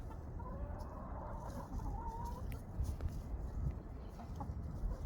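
Molting chickens cluck and murmur in a steady, low-level outdoor din on a frozen winter morning, with a few short calls rising now and then; no one speaks.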